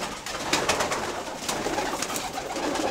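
Pigeons coo close by in a loft, soft repeated throaty calls rising over a constant rustling background, several birds overlapping without pause.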